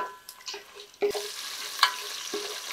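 Mustard seeds, cumin, chana dal and dried red chillies tossed into hot oil for a Karnataka bisi bele bath, a sudden burst of sizzling that carries on steadily with a few stirring clinks, close up, no voices.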